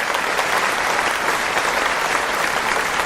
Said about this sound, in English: Do you want some applause?